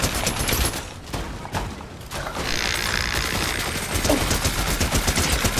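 Dense automatic gunfire in the Fortnite video game, rapid overlapping bursts and shots filling the whole stretch with barely a pause, loud and close.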